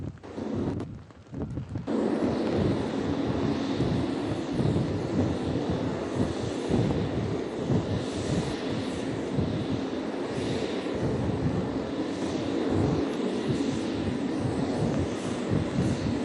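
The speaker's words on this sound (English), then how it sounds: "Each aircraft will execute a well-honed strafe pattern, diving at nearly 30 degrees straight at the target and unleashing the Vulcan's firepower" F-18 jets in a naval sea power demonstration in Virginia dive at about 30 degrees on a strafing run with Vulcan cannon, giving a loud, continuous broadband jet roar with rumbling bursts that holds steady throughout.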